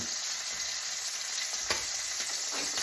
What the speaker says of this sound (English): Put some butter on the steak